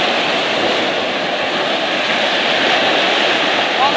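Sea surf rolling in on a beach at Adler, Sochi: a steady, full wash of breaking waves fills the whole stretch, loud and continuous with little variation.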